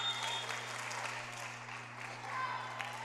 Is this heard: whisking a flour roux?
no